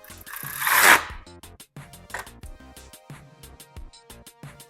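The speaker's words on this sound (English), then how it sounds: "I'm going to slightly tighten the pinch bolts" Pinch bolts on a dirt bike being snugged down with a hand tool: quick metallic ratcheting clicks and clatter in short irregular bursts, preceded by a louder rustling scrape, over a faint steady tonal background.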